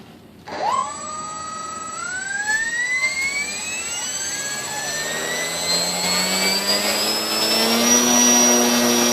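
An RC Dornier Do 217 model's electric motors drive propellers, recently swapped from 8x3.8 to 8x4.5, up to full throttle: a loud, close whine that rises sharply at the start and keeps climbing steadily in pitch.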